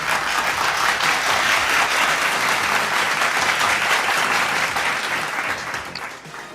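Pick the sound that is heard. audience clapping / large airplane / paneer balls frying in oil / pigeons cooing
audience clapping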